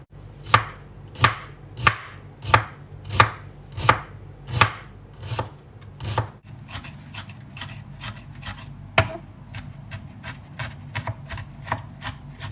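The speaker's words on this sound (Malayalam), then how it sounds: "ഒനിയൻ നമുക്ക് ചോപ്പ് ചെയ്ത പോലെയാണ് കട്ട് ചെയ്തെടുക്കേണ്ടത്" Onion being finely chopped with a knife on a board: about eight slow, evenly spaced loud chops, then a quicker run of lighter rapid taps, close and alone.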